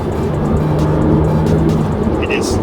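A Porsche engine accelerating drones loud and close with a steady low hum, pulling hard without clear gear changes.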